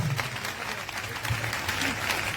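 A church congregation applauds at a revival service, dense continuous clapping from many hands that fills the room, with a few faint voices mixed in.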